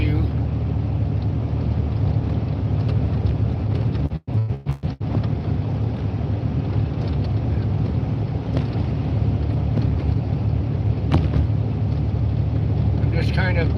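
A car driving through a Minnesota snow storm, a steady low engine and road rumble with wind buffeting throughout, a few brief dropouts partway through, and no clear talk over it.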